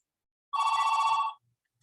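A cell phone gives one short, bright electronic ringing trill of under a second, clear and alone in an otherwise quiet room.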